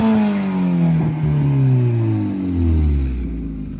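A BMW E30 M3 engine revs hard nearby, its pitch sweeping up and falling back in loud, rising and dropping surges over a few seconds.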